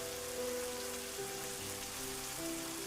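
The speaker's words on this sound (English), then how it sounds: "The rain is still falling," Steady rain falls across a jungle canopy in the Amazon, a dense continuous hiss of drops on surfaces, with a low sustained musical drone beneath it.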